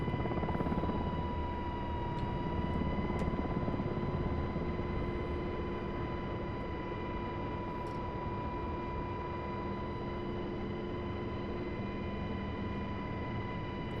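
A UH-60L helicopter hovering over a helipad in the DCS World flight simulator gives a steady, loud drone of rotor and turbine with a constant tonal whine that runs unbroken throughout.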